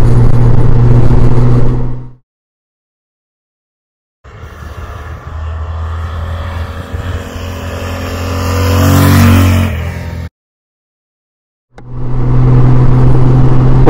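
A 2022 Royal Enfield Himalayan motorcycle engine runs loud and close in two separate bursts with silent gaps between, the middle stretch rising in pitch as it revs before cutting off abruptly.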